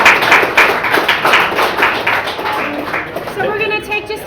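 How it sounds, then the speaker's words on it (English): Audience clapping at a live running-race interview event, a short burst of claps that thins and fades, with a voice talking over the end. "So a round of applause, please, for Camellia Mayfield"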